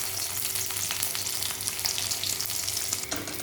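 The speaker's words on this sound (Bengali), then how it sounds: "একে একে আমি 5টা ট্যাংরা মাছ হালকা করে ভেজে তুলে রাখবো।" Small tangra fish sputter in plenty of hot mustard oil, five pieces frying one after another, with a close, busy crackling sizzle and occasional sharper pops throughout.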